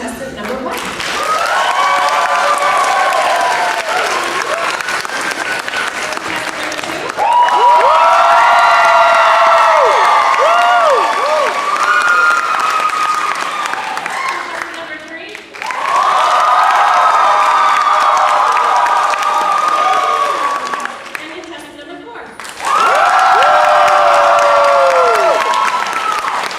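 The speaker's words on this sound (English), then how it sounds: "So, audience, give your applause for contestant number 1." Audience applause and cheering at an anime convention dating-game panel, in two loud bursts that swell, dip and return, with whoops and voices mixed into the crowd noise.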